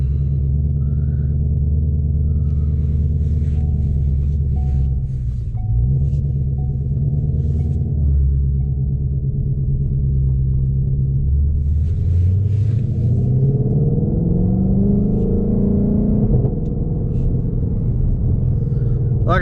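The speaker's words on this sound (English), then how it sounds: "I'm gonna change the exhaust to track mode as well" A 2020 Ford Mustang Shelby GT500 with its exhaust in track mode drives along, its deep rumbling engine drone holding steady and then rising in pitch as the car accelerates, loud and close throughout with no talking.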